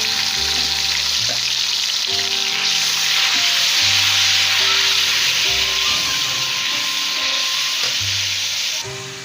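Onion and chili paste frying in a pan with garlic and ginger for a street-food-style mutton liver fry, a loud, steady sizzle with stirring that runs throughout over faint background music.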